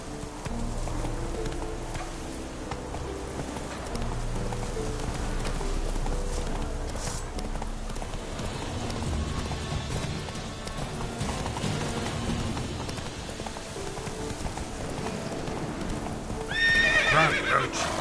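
Roach the horse in The Witcher 3 gallops with steady rapid hoofbeats over music, ending in a sharp whinny near the close.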